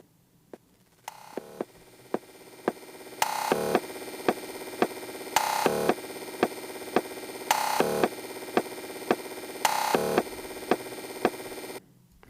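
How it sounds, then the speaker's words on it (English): Choppy, pitched-up drum hits glitched in Ableton stutter in rapid repeats, with bursts of dense buzzing stabs recurring in a looping pattern before cutting off. "So that's basically how I glitched up these drums."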